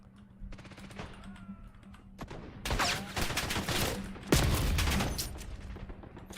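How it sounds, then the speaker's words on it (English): Gunfire in a video game: a few sharp shots ring out over a background hum, then a dense, loud burst of rapid fire carries on through the second half. "Taking the shot."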